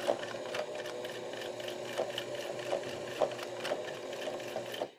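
A sewing machine runs steadily as it stitches a folded waxed canvas backpack strap, a continuous mid-level hum marked by faint periodic clicks and small bumps, heard alone at close range.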